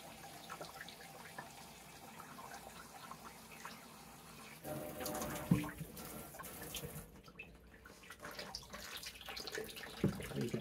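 Tap water runs into a big cup, starting as a faint trickle and swelling into a louder, steady rushing pour partway through, with a few small clinks.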